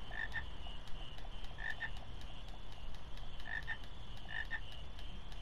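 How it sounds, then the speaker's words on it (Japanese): Frog croaking in the video game Final Fantasy IX: short croaks in quick pairs repeat at a steady pace over a constant ambient game background. "やっぱりカエルあるね。"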